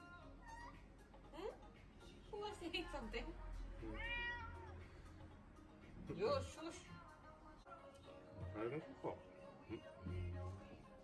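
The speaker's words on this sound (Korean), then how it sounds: "Why are you fighting cat?" Cats fighting in a cat cafe in Fukuoka yowl and meow in agitated bursts, with a person talking over them in a quiet room.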